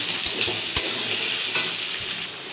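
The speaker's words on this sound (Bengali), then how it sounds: "এবার একটু হালকা লাল লাল করে ভেজে নেব আলুগুলোকে" Cut potatoes fry in oil for muri ghonto, a continuous bright sizzle up close with a few stirring knocks and scrapes of a utensil against the pan.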